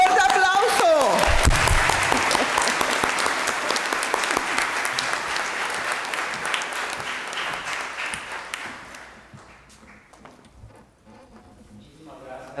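Congregation applauding inside a church during a Sunday Easter-season Mass, loud sustained clapping that swells early and slowly fades out over about ten seconds, with a brief voice at the start.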